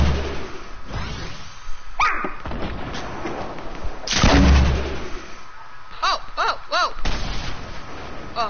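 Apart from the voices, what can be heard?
gunfire in a PS4 video game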